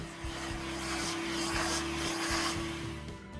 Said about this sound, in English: For this one I use my vacuum cleaner.